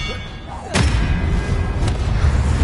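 An Expelliarmus spell in Hogwarts Legacy strikes with a sudden heavy thump and crackling burst, followed by a rumbling tail and a second fainter hit about a second later, loud and close.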